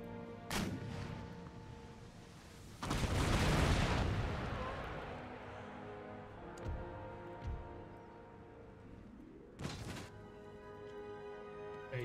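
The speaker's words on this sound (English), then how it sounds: "Rockets away. Probably engaging their artillery." Rockets and artillery fire in the strategy game Empire: Total War, with several heavy booms and a long rushing blast scattered across the battle, echoing over a low, steady backdrop.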